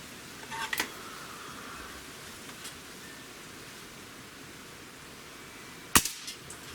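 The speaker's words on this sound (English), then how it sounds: "And shot number 4." An air rifle fires once, a sharp, brief crack close by after a few seconds of low background hiss, preceded earlier by a couple of faint clicks.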